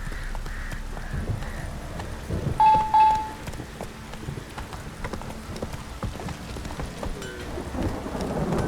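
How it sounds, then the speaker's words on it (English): Heavy rain downpour in The Witcher 3 video game, a steady hiss of falling water with a brief louder crack partway through and a low rumble underneath. "This downpour's a bastard"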